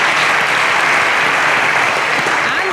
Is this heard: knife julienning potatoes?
no